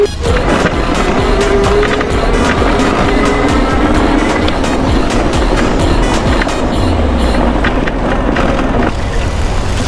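An Aipas C2 Max e-bike is ridden in automatic assist mode, with loud, steady rolling and rattling road noise running through the whole stretch and no voices.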